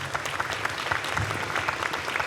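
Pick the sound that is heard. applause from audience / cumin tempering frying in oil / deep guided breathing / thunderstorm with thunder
applause from audience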